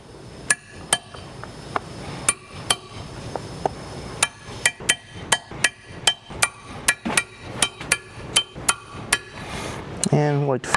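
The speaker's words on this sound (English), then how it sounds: "I'm going to get rid of that. And then we're going to burr the ends so those are nice and smooth." A worker in a leather and canvas goods finishing department trims excess rivet and burrs the rivet ends smooth, producing a steady series of sharp, close metallic hammer taps, about two per second, with faint background activity between strikes.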